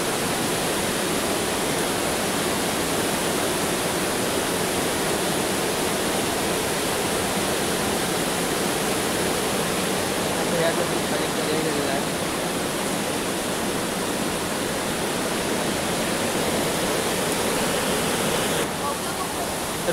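Water pours over a dam in a steady, loud, broadband roar, continuous rushing with no breaks, heard close and alone throughout.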